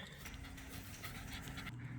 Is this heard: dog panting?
yes